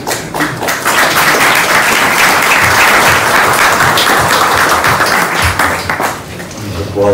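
A debate audience claps in sustained, dense applause that stays loud and even for several seconds before thinning out at the end.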